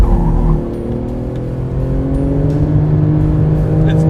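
A 2018 Porsche 911 GT2 RS accelerates on a racetrack, its engine loud and near with a dense roar that rises steadily in pitch through the gears.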